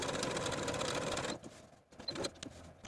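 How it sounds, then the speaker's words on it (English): A sewing machine stitches a woven tee alongside serged seams, running steadily and loud for over a second, then stopping and restarting in short bursts with pauses between. "we're going to sew from the top alongside our serging stitches until we reach the slit opening"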